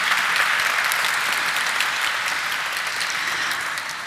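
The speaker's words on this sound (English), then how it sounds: "can we have a huge round of applause for Essen Speciality Films Limited?" Audience applause fills a listing ceremony for Essen Speciality Films Limited, a dense, steady clapping from a large crowd that holds for about four seconds before easing slightly at the end, with no voices over it.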